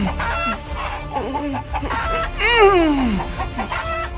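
Chickens cluck and squawk nearby in short agitated bursts, with one rising, drawn-out crow-like call cutting through midway over a low background murmur.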